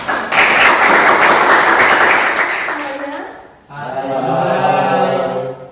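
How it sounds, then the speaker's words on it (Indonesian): Classmates in a classroom clap for a group of students about to present, a dense burst of hand claps that fades out partway through before a voice begins speaking. "Kita kasih tepuk tangan untuk kelompok"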